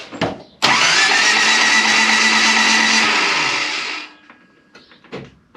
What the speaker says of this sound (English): when you crank it now, it has no compression at all